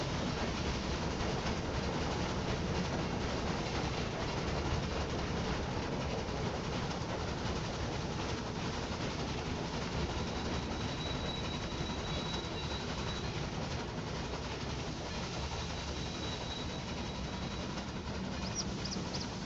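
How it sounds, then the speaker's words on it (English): A train runs in the railway strategy game Railway Empire 2, heard as a steady, even rumble of rolling wheels and cars that continues unbroken at low volume throughout. "Mail train behind us?"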